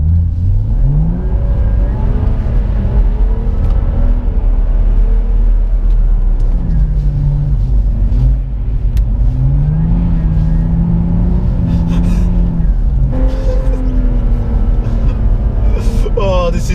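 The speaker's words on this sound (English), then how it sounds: "this car's running on the Michelin Pilot Supersport tyres, and it's dealing with the snow pretty well" A BMW on Michelin Pilot Supersport tyres drives through snow, its engine droning loud and close with rising and falling revs over a steady low rumble, while someone talks throughout.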